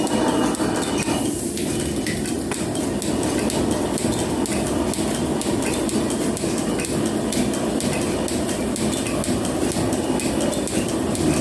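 A metal planer machining a flat surface while peeling a chip, heard as a steady dense mechanical clatter and grinding roar with rapid ticking, loud and continuous, no talk.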